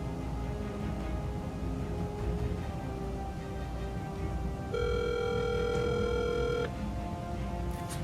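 A telephone call ringing out on the line before reaching voicemail: a steady tone over low background hum, then a brighter, louder tone held for about two seconds before it drops away.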